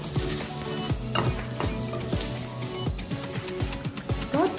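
White sesame seeds frying in a pan alongside finely chopped green chillies, a steady close sizzle broken by repeated stirring scrapes and clinks of a utensil throughout, with no talking.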